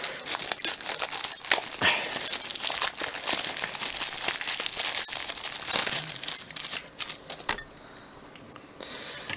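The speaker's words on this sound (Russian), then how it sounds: "Пакет." Continuous crinkling of a plastic bag sealed around the charger of an F+ B280 push-button phone during unboxing, close and fairly loud with dense crackles throughout, easing off near the end.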